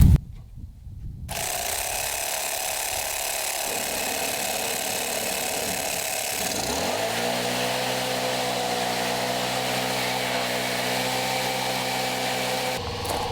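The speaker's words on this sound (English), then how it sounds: "my lawn leaf blower" A lawn leaf blower whirs loudly and steadily, its motor spinning up partway through. It then holds a constant droning tone until it cuts off near the end.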